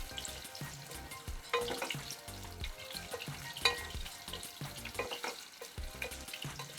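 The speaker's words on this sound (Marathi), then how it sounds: "छान 2 मिनटं तरी आपल्याला हे फ्राय करायचं त्याच्यामध्ये, 2 ते 3 मिनटं" Small potatoes fry in a pan over full gas for aloo dum, giving a steady close sizzle with the scrape and clatter of stirring throughout.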